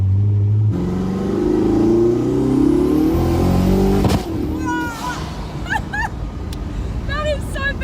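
The turbocharged engine of the world's fastest supercar revs loud and close, its pitch climbing over several seconds as it accelerates, before voices start talking over the rumble.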